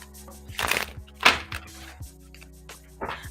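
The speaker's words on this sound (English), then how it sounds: "Let me give this a nice shuffle." Tarot cards being shuffled: a few short papery riffling bursts with pauses between them, heard over quiet background music.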